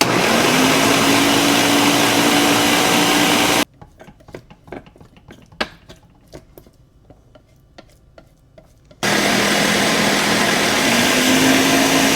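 A blender whirs loudly as it purees herbs with avocado oil into a paste, running steadily for a few seconds, pausing for several seconds of small clicks and taps, then starting up again.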